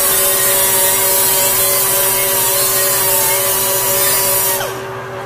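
A loud, constant grinding hiss with a steady motor whine as a Scotch-Brite pad is pressed against a spinning metal part, easing off at the very end.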